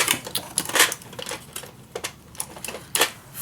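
Paper tags for a Christmas mini album are cut with a quick run of crisp, uneven clicks and snips, close and fairly loud, with short pauses between bursts.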